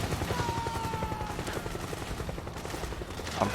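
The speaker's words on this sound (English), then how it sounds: "That does distinctly sound like a helicopter." A helicopter in the video game Metal Gear Solid 4 keeps up a low, continuous rumbling chop beneath the battlefield din, with scattered distant gunfire crackling over it.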